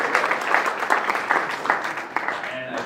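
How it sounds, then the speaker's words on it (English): Audience applause at a gaming meetup, a dense burst of clapping from a crowd that stays fairly loud throughout and begins to thin out near the end. "They're here, so everybody should clap."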